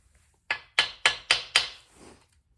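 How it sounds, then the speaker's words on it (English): Five sharp metallic taps in quick, even succession seat a crankshaft main bearing cap on a 440 V8 Mopar engine during a rebuild, each hit close and crisp, followed by a faint softer knock. "Give it a little start there. Love tap."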